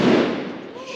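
A loud burst of firecrackers thrown outside a house during a traditional Spanish fiesta, close by, then a crackling, decaying rumble that trails off over about a second.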